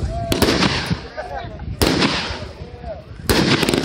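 Red Apple Fireworks Mind Explosion 500 gram cake going off at a demo, three loud sharp bursts spaced about a second and a half apart, with crackling and whistling tails between them and people talking over it.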